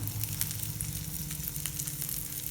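An egg omelette with onion, coriander and mint frying in a pan over a low flame, giving a steady close sizzle with soft popping crackles throughout and no talking.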